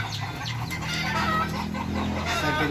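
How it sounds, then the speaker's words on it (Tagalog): Newly hatched chicks peep in a dense, continuous chorus close by, many high chirps overlapping in a busy group with no talking. "ito yung bagong pisa natin ng mga sisiyo"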